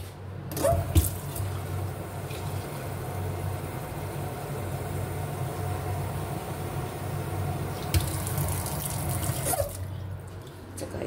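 Tap water runs steadily into a container for soap-making, a continuous broadband rush with a brief louder burst near the end, with no speech.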